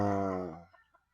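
A battle stag rooster on a game farm lets out one loud, close, drawn-out call that fades away within a second.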